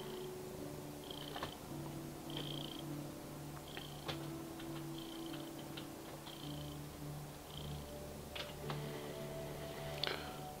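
A cat purring softly and steadily at close range, a low continuous rumble running through the whole stretch alongside faint ticking sounds, with no talking.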